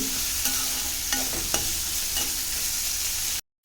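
Radish pieces sautéed in hot oil in a pan for radish sambar: a continuous close sizzle with a few crisp spatula scrapes and clicks, no voices, cutting off abruptly at the end.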